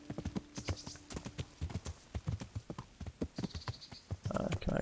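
A horse's hooves clip-clop in a steady trotting rhythm while being ridden along a road in the video game Kingdom Come: Deliverance, close and distinct throughout with no talk.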